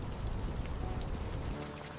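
Heavy rain pouring down in a steady, dense wash of noise, close and loud throughout, with a low rumble easing slightly near the end.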